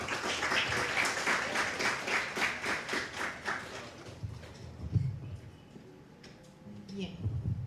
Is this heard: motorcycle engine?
no